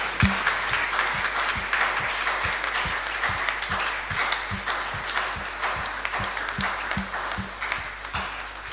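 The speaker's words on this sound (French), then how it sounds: "Une offrande d'acclamation pour ceux-là qui prennent la décision sur Jésus" Steady applause from a congregation during a French-language church healing service, continuous and fairly loud, with rhythmic low thumps running through it.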